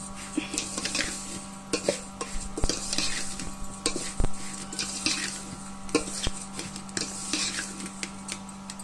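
A spoon stirs and mixes pelam pindi laddu mixture with ghee, giving soft repeated scraping and clinks against the vessel over a steady low hum.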